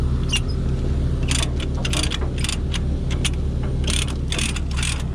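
A Cat 938K wheel loader's engine idles with a steady low hum while bright metallic clinks and rattles recur in quick bursts close by.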